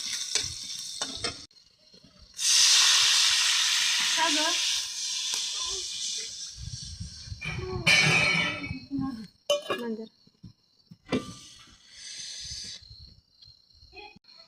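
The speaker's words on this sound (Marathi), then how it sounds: "मोहरीचं नाचून झालेलं आहे आणि जिरे बी तडतड करू लागले, तर आता ॲड करायचं लसूण" Mustard seeds, cumin and garlic crackle and sizzle in hot oil for a tempering, loud bursts of frying hiss near the pan with stirring and clinks between them.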